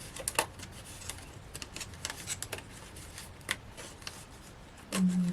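Scissors snip around the proud pips of a luxury card topper in a cardmaking session, a run of quick, light cuts with irregular spacing and short pauses, close and fairly quiet, ending in a brief louder rustle.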